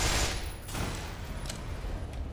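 Gunfire in the shooter game Black Mesa, a loud burst at the start followed by a few scattered, fainter shots over rumbling background noise, with no talking.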